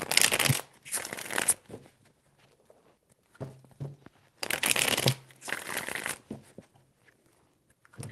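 Tarot cards being shuffled in quick riffling bursts, two pairs of crisp papery flurries separated by a quiet pause, close and fairly clear with no talking.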